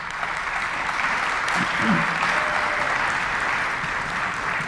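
Sustained applause from an audience at a high school honors concert, a steady wash of clapping hands holding at an even level throughout.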